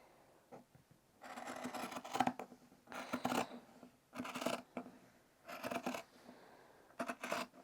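Scissors snipping through fabric along a stitch line on a polo placket, in several separate bursts of close, crisp cutting with short pauses between them.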